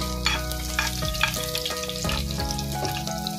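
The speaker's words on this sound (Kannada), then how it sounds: "ಎಸಳು ಬೆಳ್ಳುಳ್ಳಿನ ಈ ತರ ಜಜ್ಜಿಕೊಂಡು ಹಾಕೊಳ್ತಾ ಇದ್ದೀನಿ. ಗ್ಯಾಸುರಿನ ಆದಷ್ಟು ಲೋ ಫ್ಲೇಮ್ ಅಲ್ಲೇ" Crushed garlic cloves sizzle steadily in oil in a pan over a low gas flame, with a continuous close frying hiss and occasional stirring clinks, no voices.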